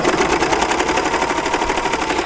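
A serger overlock machine stitches a seam through fabric with red thread, giving a fast, steady mechanical whir with a rapid rhythmic chatter that stays constant and close throughout, with no voices.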